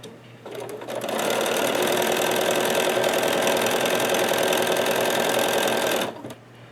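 A sewing machine stitches quilt fabric in a fast, even run of rapid mechanical clatter lasting several seconds, starting and stopping cleanly, close and loud with no talk.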